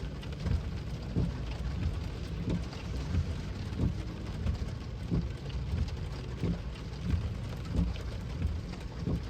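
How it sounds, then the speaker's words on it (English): Heavy rain pours steadily, a dense hiss with scattered louder drops and low rumbles throughout. "It's like raining so much."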